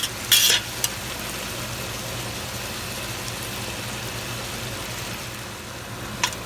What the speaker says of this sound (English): we're gonna keep cooking the carrots